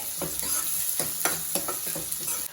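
Onions frying in a pan for Andhra-style pappu, a steady bright sizzle broken by repeated scraping strokes of a spatula at a fairly even rhythm, close and clear with no voices.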